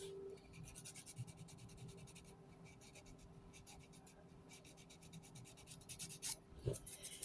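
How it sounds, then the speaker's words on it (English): An emery board files the edges of a fingernail on its roughest side, making quiet, rhythmic scratching strokes close up with a few soft knocks near the end. "I'm going to take my emery board, and I'm going to go just with the roughest edge"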